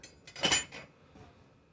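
Metal baking pan clattering as homemade blueberry muffin biscuits are set into it in a small home kitchen, a few close clinks and scrapes bunched together, then fading to quiet.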